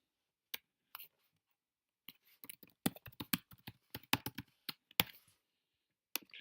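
A computer keyboard is typed on to enter a password, producing sparse isolated clicks at first and then a quicker cluster of close, crisp keystrokes.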